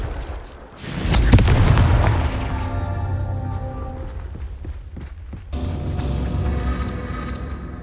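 Confringo blasting spells from Hogwarts Legacy going off as booming explosions, one loud burst followed by rumbling, crackling blasts that swell again toward the end; no talking.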